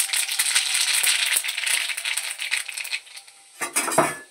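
Mustard seeds tempering in a little hot oil in a kadai, a dense broadband crackle and spatter that holds steady for about three seconds, then thins out into a few sharper pops near the end.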